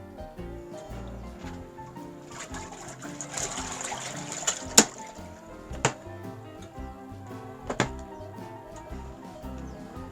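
A small $99 portable washing machine churns water at an off-grid cabin, a steady sloshing, gurgling wash with a few sharp clicks and knocks, fairly close and without talk.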